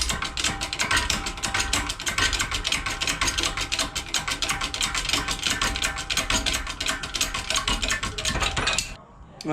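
Steady rapid ratcheting clatter from a socket tool on a press machine during a T56 transmission teardown, loud and continuous for about nine seconds before stopping abruptly.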